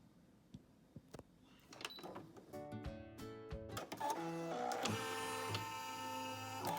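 A Brother PE770 embroidery machine stitches with rapid mechanical whirring and motor tones, starting after a few scattered clicks and settling into a steady, fairly close run for the last few seconds.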